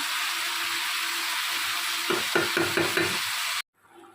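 A spoon stirs and scrapes a Bengali fish curry as it sautés in a pan, with a continuous sizzle and a cluster of rhythmic scraping strokes before the sound cuts off abruptly, close and without speech.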